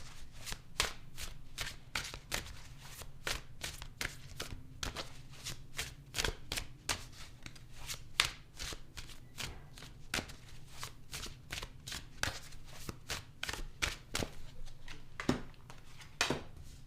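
Tarot cards are shuffled and handled for a reading, giving a long run of quick, crisp riffling snaps repeated at a steady, rapid rhythm, close and fairly quiet, with no talk over them.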